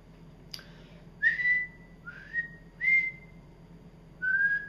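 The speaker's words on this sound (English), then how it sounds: "My whistle." A person recovering from Bell's palsy whistles four short, slightly wavering tones with pauses between them, close and clear after a small click, no talking.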